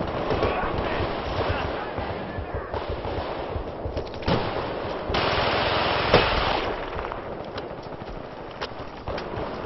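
A shotgun fires at an enemy in a video game. Several sharp blasts stand out against a continuous background of gunfire and battle noise, and a voice talks over the action.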